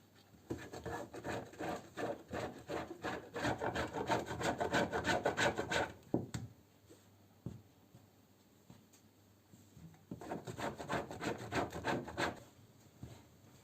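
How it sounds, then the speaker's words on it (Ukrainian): Frozen butter rubbed quickly against a grater into flour for a Napoleon cake: a rapid, close run of rasping strokes for about six seconds, a pause with a few light clicks, then a second burst of grating. "В борошно натираю масло, масло також із морозилки, щоб було замерше."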